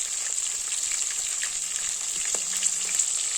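Green chillies sautéing in oil for radish puli mandi, a steady close sizzle with faint scattered spatula taps and pops throughout.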